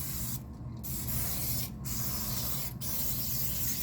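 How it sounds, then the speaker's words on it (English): Three hissing bursts of aerosol cooking spray, the first longest, over a steady background rumble with no talking. "Be very generous with the spray."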